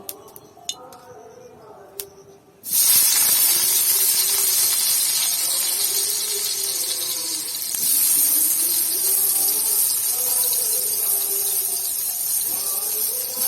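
Potatoes dropped into hot oil in a wok (kadai) for Bengali aloo potol masala set off a sudden loud, steady sizzle that continues to the end after a few faint clinks.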